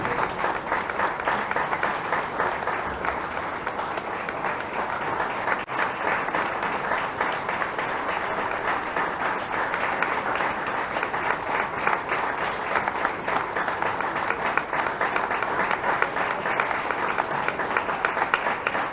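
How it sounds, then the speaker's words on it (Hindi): Steady, dense applause from a crowd fills the whole stretch, moderately loud and unbroken, with no distinct voices. "तालियां हो जाए जोरदार।"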